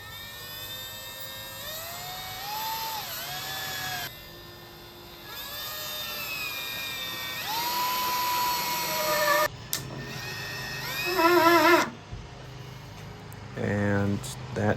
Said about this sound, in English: So I'm just gonna screw in this French cleat to a makeshift stud I've got here.